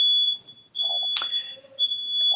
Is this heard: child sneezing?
no